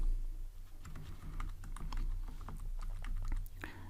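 Someone types on a computer keyboard while writing Android code, a quiet, close run of rapid, irregular key clicks with no talking.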